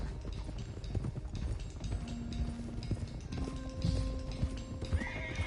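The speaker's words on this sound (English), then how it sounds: "Let's get these horses to Clemens Cove quick before we run into any more trouble." Hooves clip-clop steadily on the ground in Red Dead Redemption 2, with a horse neighing and a busy outdoor ambience; no voices.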